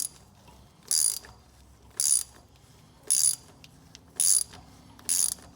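A drain plug being turned into a thin aluminum engine case on a Honda Rancher ATV with a ratchet, giving five or six evenly spaced, crisp clicking bursts close up, with near silence between them.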